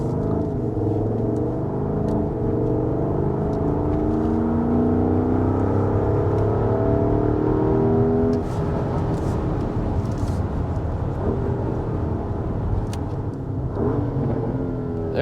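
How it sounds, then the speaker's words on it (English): A 2024 Porsche Cayenne S SUV engine revs and roars up close, holding a steady high drone before dropping off, followed by a few sharp exhaust pops and crackles. "Get some exhaust crackles."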